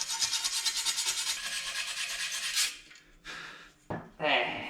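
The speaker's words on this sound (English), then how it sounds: "I might get a wire brush actually and get that bits next to the screws" A worn wire brush scrubs stainless steel body trim of a 1951 Chevy near the screws, quick rhythmic back-and-forth rasping up close, then a pause and a few shorter scrubbing bursts.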